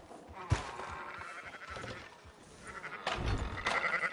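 Sheep bleat in the Red Dead Redemption 2 video game, a few wavering bleats among soft thuds and clicks, one sharp knock early on, moderately quiet and without talk.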